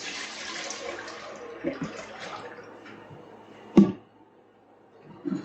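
A gallon of water splashes and pours noisily into a pot for a few seconds, then trails off, followed by a sharp clunk and quieter handling sounds.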